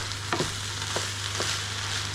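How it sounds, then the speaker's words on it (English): Rice browning in a hot pan as camping food is prepared, with a steady close sizzle and a few stirring scrapes, no talking. "maybe just brown the rice off for a few seconds"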